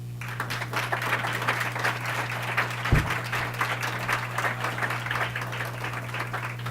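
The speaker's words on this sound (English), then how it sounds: "Please give us a nice round of applause for Secretary Sullivan." An audience at a conference on resiliency applauds in steady, dense clapping that fills the whole stretch. The sound is moderately loud and evenly sustained, with one brief thump partway through.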